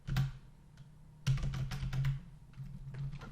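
Fingers type on a computer keyboard in quick, irregular bursts of soft clicks, close and quiet, with a short pause between runs.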